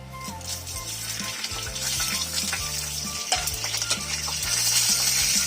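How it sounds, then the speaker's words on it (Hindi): Whole spices hit hot oil in a pan for a chicken curry, making a steady, close crackling sizzle that grows slightly louder, with faint clinks of a utensil beneath. "तेल गरम हो चुका है तो उसमें ये जो खड़े मसाले हैं ये ऐड करूंगी"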